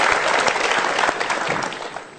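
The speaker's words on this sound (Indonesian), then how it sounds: "Kita berikan tepuk tangan untuk 2 orang ini." Studio audience at an Indonesian motivational talk show applauding, a dense, loud wash of clapping from the whole crowd that holds steady then begins to thin toward the end.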